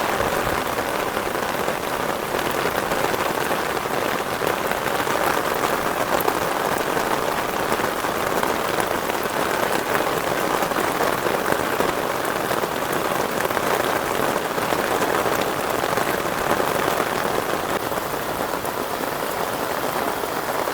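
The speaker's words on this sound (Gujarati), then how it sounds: "એટલો વરસાદ આવે છે." Heavy monsoon downpour in a Surat garden, a dense, constant roar of rain pounding surfaces and splattering drops, steady and loud throughout with no voices.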